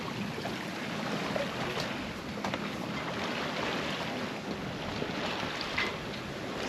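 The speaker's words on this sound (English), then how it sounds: "Sailing along the southern coast." A sailboat sails along the southern coast near Falmouth, Antigua, with a steady wash of wind and water rushing past the hull and wind buffeting the microphone throughout, no voices.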